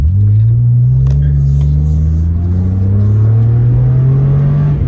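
A Mitsubishi Galant 2.5 V6 pulls away hard from a junction, its engine note climbing steadily through the rev range, loud and close, with a deep rumbling hum throughout.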